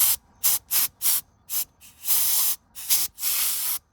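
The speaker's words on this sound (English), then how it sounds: "go grab my nozzle for my air compressor, and I'm just gonna spray it off" An air compressor nozzle blows dust off a 2021 Toyota RAV4 Prime in sharp, close hissing blasts, several short ones followed by two longer ones.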